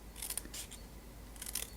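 Scissors fussy cut around a die-cut paper card, making a few quiet, close snips with short crisp bursts and faint rustling between them.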